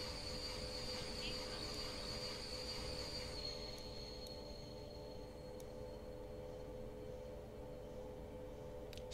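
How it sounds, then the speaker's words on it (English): A steady low rumble of a passing log train with faint high squeals and occasional clicks, continuous and fairly distant, in a train simulator game on the Dresden to Schöna route. "Surprisingly loud log train as well"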